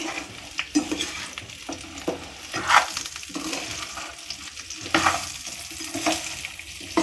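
Amla pickle being stirred with salt, chili and turmeric, giving a steady scraping and mixing sound with soft moist sizzle-like texture and a few louder scrapes, close and with no talk.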